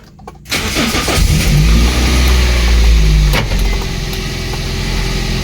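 A 2014 manual Suzuki Wagon R GS car engine is started: a short starter crank catches, then the engine settles into a loud, steady idle close by.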